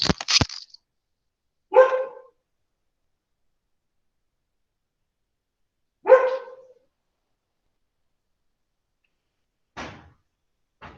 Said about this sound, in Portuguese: Tanto lugar para ela latir, ela vai latir logo no meu ouvido.